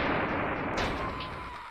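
Cannon exploding in the video game Kirby Star Allies, a heavy booming blast with a rumbling tail that fades over about two seconds, loud and alone.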